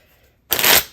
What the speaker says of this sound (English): I'm gonna shuffle the cards up just to make sure they are fully